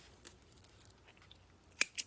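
Scissors cutting yarn while crocheting a bag: a faint snip early, then two close, crisp snips at the end against near silence, with no talking.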